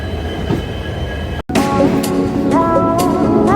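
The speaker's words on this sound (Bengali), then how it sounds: "আমাদের ট্রেন চলছে এঁকে বেঁকে পাহাড়ের মাছ দিয়ে, পাশে জঙ্গল।" The Amaravati Express rolls along the Konkan Railway through hills and jungle, a loud, close rumble of wheels and carriages with metallic squeals and clatter, briefly cut by a short dropout before resuming just as loud.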